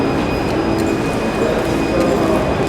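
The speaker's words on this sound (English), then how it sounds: "Alright, we found our train, we gotta get on there." A New York City subway train on the way to Coney Island, heard close as a loud, steady rumble and rattle with a faint high electric whine running through it.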